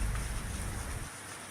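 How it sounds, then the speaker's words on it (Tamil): Heavy rain pouring during an afternoon downpour in the Avinashi area of Tiruppur district, a dense steady hiss with a low rumble that fades out near the end. "திருப்பூர் மாவட்டத்தில் பரவலாகவே தற்பொழுது மதியத்திற்கு மேலானது அந்த கனமழை பெய்து வருகிறது"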